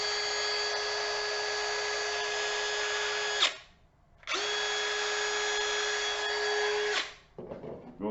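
A DeWalt cordless drywall screwgun whirs in two long, steady bursts separated by a short pause. The smooth, even motor tone is close and clear, with faint clatter at the end.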